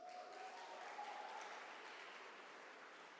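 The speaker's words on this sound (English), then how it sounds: "Please give him a round of applause." Audience at a Mail and Guardian 200 Young South Africans gala dinner applauds steadily, a dense even clapping that holds for a few seconds with a faint tonal hum early on.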